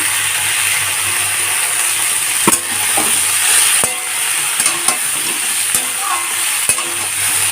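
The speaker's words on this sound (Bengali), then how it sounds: "লো ফ্লেমে করে দেব বরবটিটা ভাজা ভাজা হতেই এখন দিয়ে দেব আলু" Yardlong beans and potatoes frying on a low gas flame, a loud bright sizzle with repeated scraping knocks of a spatula stirring the pan, close and alone.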